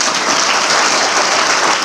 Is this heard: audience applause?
yes